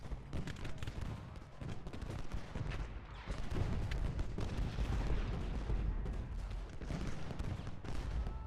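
Civil War artillery in Ultimate General: Gettysburg, a dense, continuous barrage of cannon and musket fire with overlapping booms and crackles, loud and sustained throughout, swelling slightly midway.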